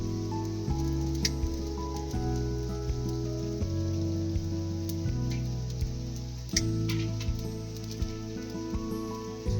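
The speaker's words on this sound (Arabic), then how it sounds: "خليكم ويا أجواء المطر الجميلة" Rain falling outdoors during a winter meal cooked over wood, a steady soft patter that runs underneath prominent background music.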